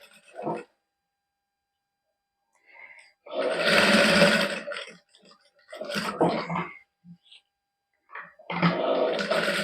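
Sewing machine stitching zari lace onto a garment neckline in a boutique, running in a few loud bursts separated by pauses, with short quiet gaps and clicks between runs.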